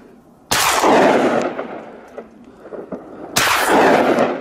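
Two loud, sharp gunshots ring out outdoors during a wild boar hunt, about three seconds apart, each with a brief echoing tail, and faint rustling between them.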